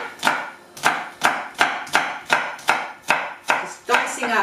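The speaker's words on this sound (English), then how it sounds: "Just dicing up some shallots." A knife dicing shallots on a cutting board for a pumpkin soup garnish: about nine crisp, evenly spaced chops, close and clear, with a slightly quicker final stroke.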